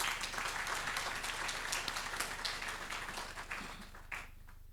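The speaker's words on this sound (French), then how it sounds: "On applaudit pour le président." A crowd applauds steadily for a few seconds, a dense patter of clapping that gradually thins out toward the end.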